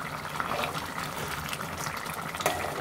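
Brinjal and tomato curry simmers on a medium flame, a soft continuous bubbling with small pops and light liquid movement at a quiet level, with no talk over it.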